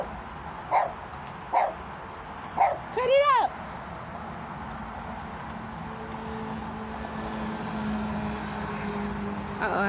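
A dog barks a few times in a row, close by, with short yips and a whimper. A person shouts at it over a steady background drone, and the barking stops after that.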